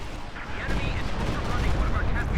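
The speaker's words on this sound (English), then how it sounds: "Oh, got some Stuka rocket barrage coming in." Rumbling barrage of rocket and explosion fire in a Company of Heroes 2 battle, a continuous loud roar of blasts layered with gunfire across the whole moment, with a voice talking over it.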